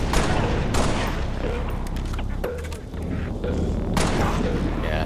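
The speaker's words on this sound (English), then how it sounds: "Hostile fire in my position." Dense, loud gunfire in Halo: Reach, with sharp repeated shots and booming impacts layered into a continuous battle din, briefly easing before another heavy burst.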